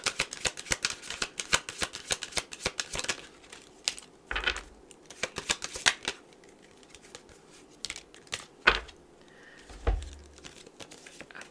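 Message cards are shuffled for a pick-a-card reading, with quick riffling, flicking and tapping bursts close by. The bursts come in irregular clusters with brief pauses and a few soft thumps, and no voice is heard.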